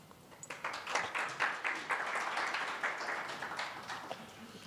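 An audience at a capacity-building workshop applauds a speaker, a dense, steady wash of many hands clapping that swells and then tapers off.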